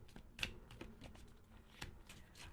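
A deck of tarot cards is shuffled quietly nearby, giving soft papery riffles and light taps in an irregular rhythm.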